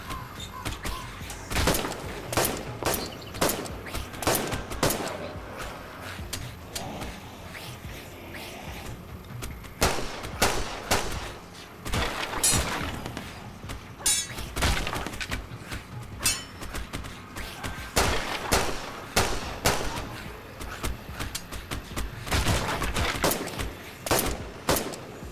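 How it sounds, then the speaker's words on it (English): Gunfire in The Last Stand: Aftermath video game comes in repeated sharp bursts and single shots across roughly twenty-five seconds, loud and close, sometimes in rapid clusters, with short gaps between volleys. "I'm shooting the barricade instead of the person behind the barricade"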